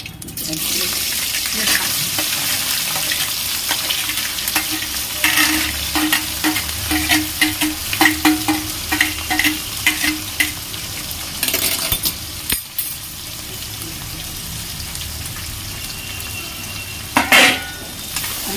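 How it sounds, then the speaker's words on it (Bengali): Onions fry in oil after a tempering of dried chili, bay leaf, cumin and cinnamon for a light chicken curry, giving a loud, close, continuous sizzle with repeated stirring scrapes, which turns softer with a few utensil clinks near the end. "ফোড়নটা হয়ে গেলে পেঁয়াজগুলো দিয়ে ভাজবো।"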